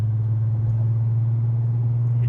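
A V6 car engine idles with the exhaust removed, giving a steady, loud, unbroken low rumble that holds throughout.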